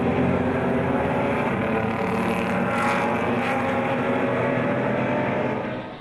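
A pack of BMW race cars roars past on a circuit in one continuous loud engine drone that swells slightly mid-pass and fades at the end.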